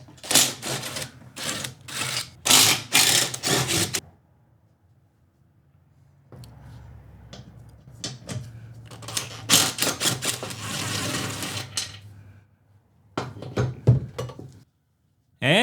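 Impact wrench spinning bolts out of a Husqvarna riding mower deck spindle, sharp rattling hammering bursts of a few seconds each, separated by pauses, close and loud.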